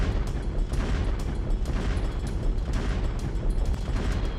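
An explosion in Beirut thunders as a heavy, sustained roar of rumbling blast noise, loud and broadband throughout with repeated booming bursts.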